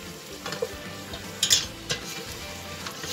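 Mutton frying with added spices in a pan, giving a steady close sizzle broken by a few sharp scrapes and clinks of a spoon as it is stirred.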